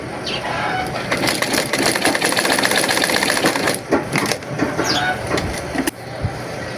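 Sewing machine stitching fabric in rapid, steady bursts close by, pausing briefly before the needle starts running again.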